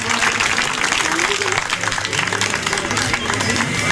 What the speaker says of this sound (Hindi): पहले प्रवीण जी के लिए भी जोरदार तालियां बजाएंगे